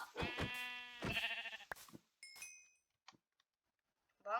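A lamb bleats in the video game Minecraft, two loud, close, harmonic bleats followed by quieter game clicks and a final short bleat, with no talk over it.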